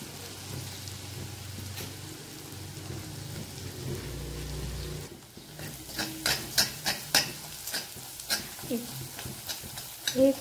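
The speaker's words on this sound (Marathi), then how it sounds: "हे तेल गरम झाल्यानंतर यात हा जो उरलेला शेंगदाण्याचा कूट होता तो आपल्याला घालायचा आहे" Peanut powder frying in hot oil while the pan is stirred, for stuffed bitter gourd. A steady sizzle runs through the first half, then turns into a string of separate scraping stir strokes close by.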